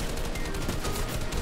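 Rapid bursts of gunfire in the video game Fortnite, dense and loud, rattling continuously through the moment with no talk over it.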